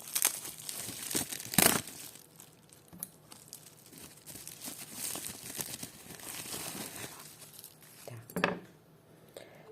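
A small plastic packet holding bracelets crinkles up close while a parcel of vintage jewellery is unpacked, with sharp bursts at the start and a final rustle near the end between quieter handling sounds.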